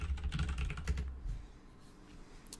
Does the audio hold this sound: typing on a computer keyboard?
yes